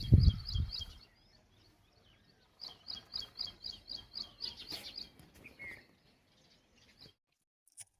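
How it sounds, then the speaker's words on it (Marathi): Birds chirp and trill on a village morning, a bright repeated twittering run in two bursts after a brief low thump at the start, moderately near with quiet pauses between. "आणि पक्ष्यांचा किलबिलाट हा आमच्या गावाकडच्या लोकांचा खरा अलाराम आहे."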